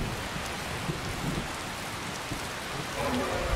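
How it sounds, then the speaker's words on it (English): Steady, dense night rainfall in the video game Skyrim Special Edition patters continuously, with a low rumble underneath and a faint tonal sound near the end. "It's raining, it's the middle of the night."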